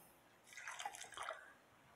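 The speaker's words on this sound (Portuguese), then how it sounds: "E vocês vão adicionando água." Water poured into couscous flour seasoned with a level spoon of salt, for Northeastern Brazilian cuscuz; a faint, soft trickle and drip of liquid that swells for about a second and then fades, with no talk.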